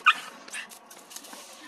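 A dog confronting a black cat lets out a sharp, loud bark at the start, followed by softer whimpering and yipping sounds at close range.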